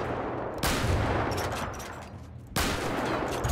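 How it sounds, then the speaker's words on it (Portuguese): Gunfire in the GTA RP game, with two loud shots about two seconds apart over steady background game noise. "Olha lá, atirando em todo mundo, ó."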